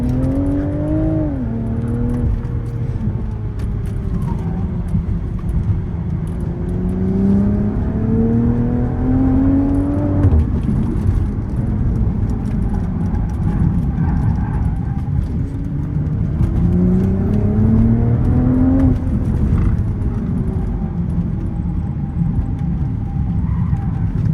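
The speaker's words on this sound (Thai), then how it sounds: "เจ้า BMW Z4 คันนี้เนี่ย สามารถดริฟต์ได้นะครับ" A BMW Z4 drifting on a race track, its engine loud and close, revving up and down repeatedly in rising and falling sweeps as it accelerates through slides.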